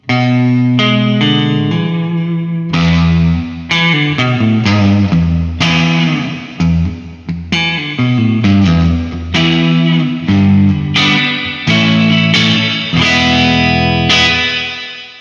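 Distorted electric guitar plays chords and riffs through a Boss RV-5 digital reverb with the tone knob turned down, loud and sustained with a dark, spacious tail.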